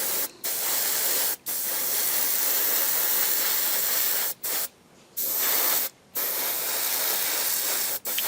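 An airbrush lays a first coat of paint on a 1/12 scale Bandai Boba Fett model, making a steady, loud, close hiss of spray. The spray cuts off briefly several times, with silent gaps between the long bursts.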